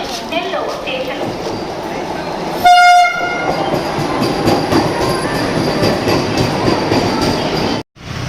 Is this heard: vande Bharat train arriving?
yes